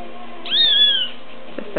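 A small kitten gives a single short, high-pitched meow close by, followed by faint rustling and small noises indoors.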